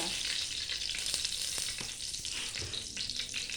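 Steady sizzling of aromatics frying in hot oil in a pot, a continuous crackling hiss with occasional pops, close by and without talk.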